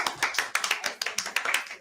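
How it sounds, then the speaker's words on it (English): A small crowd claps at a community event, quick uneven clapping that stays fairly close and steady throughout, with no talking over it. "Clap yourself."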